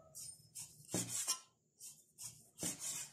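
Short bursts of a knife slicing a small piece of clean pork belly into thin slices on a board come in an uneven rhythm of separate strokes, close and quiet, with no talking.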